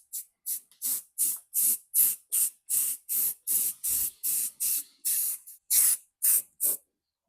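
Aerosol spray bursts during a Volkswagen headliner install, about fifteen short loud hissing blasts in a quick irregular rhythm, close by with no talking.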